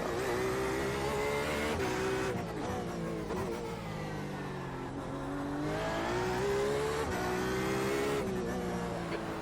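An IMSA GTE race car lapping Long Beach in the iRacing sim, its engine roaring loud and steady, pitch rising and dipping through gear changes and corners, with no talk over it.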